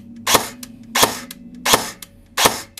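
A CYMA SVD airsoft electric rifle fires four evenly spaced single shots, each a sharp close snap with a short mechanical whir and crack, nearly alone in a quiet space.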